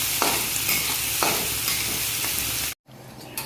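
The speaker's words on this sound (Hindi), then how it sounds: "तो देखिए मिर्च और प्याज को मैं भून रहा हूँ। अभी थोड़ा सा मैं लाल करूँगा इसको।" Chili and onion fry in a pan with a loud, continuous sizzle, while stirring strokes scrape through it every second or so. The frying cuts off abruptly near the end.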